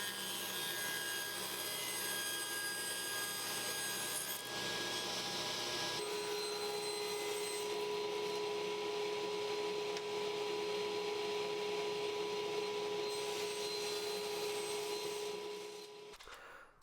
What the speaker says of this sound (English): then I'll take it to the drum sander to bring it down to its final thickness